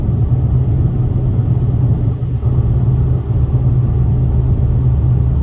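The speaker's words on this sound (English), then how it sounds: "Now there's a lot of more road noise in this car" Steady, loud low rumble of road and tyre noise inside a 20-year-old 2004 Infiniti G35 with 163,000 miles and a six-speed manual, droning continuously with only brief dips and no voices.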